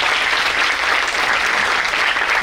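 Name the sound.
audience applause at a seminar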